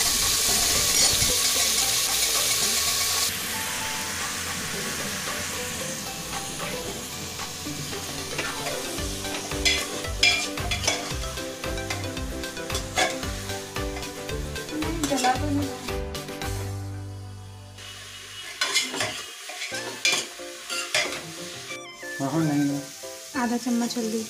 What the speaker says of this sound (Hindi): प्याज को लाल होने तक कुकर में हिलाते रहना।